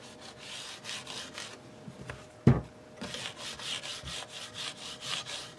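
Close, soft rhythmic rubbing of a microfiber cloth along the wooden sides of a Yamaha AEX-602 guitar, strokes repeating steadily with a brief knock in the middle.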